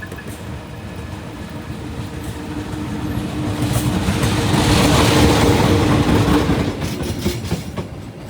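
A boxy CC203 diesel locomotive hauls the Logawa economy train past, its rumble and rhythmic clickety-clack of wheels on rails building to a loud peak mid-pass and then easing off, with no talk over it.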